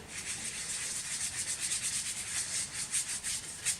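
A brush dusts talc across a card before heat embossing, giving soft, continuous rubbing strokes in a quick, even rhythm with no talk.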